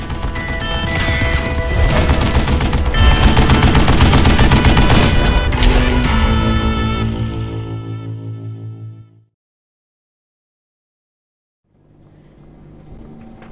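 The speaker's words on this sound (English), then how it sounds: "Kid Curry opened up on me with a goddamn Gatling gun" Gatling gun in Call of Juarez Gunslinger, fired from a shielded railway tunnel, lets loose a loud rapid burst of metallic shots and crashes that fades into silence before a quieter rumble returns.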